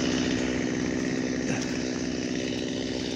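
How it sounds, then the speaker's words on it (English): An MS-250 chainsaw cuts down a tree, its engine a loud, close, continuous high-pitched buzz held steady at full throttle for the whole stretch. "Cutting it down with my MS-250."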